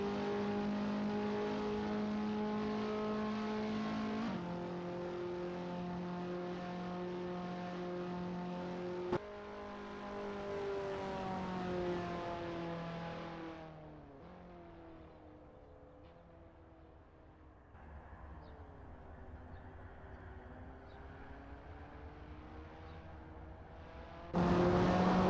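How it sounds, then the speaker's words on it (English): Race cars warming up on the VIR full course in the Assetto Corsa racing game, steady engine drones holding tone, shifting pitch and fading before a louder engine surges in at the end. "It's a lovely day for racing here at VIR full course as we watch these drivers warm up and get ready for the race."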